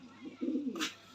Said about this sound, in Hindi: ये माशाल्लाह से रामपुरी कबूतर है मेरे भाई